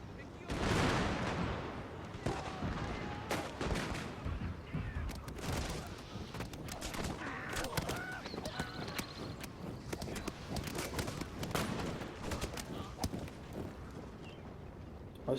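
Rapid, irregular gunfire crackles from troops firing at a unit of Ashigaru in a Shogun 2 battle, with sharp bursts overlapping through the stretch and a voice talking at times.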